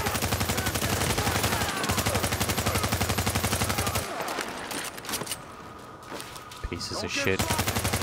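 Sustained automatic gunfire in the video game Tom Clancy's The Division, rapid evenly spaced shots hammering loudly for several seconds, then a lull with scattered shots and someone talking, before the firing resumes.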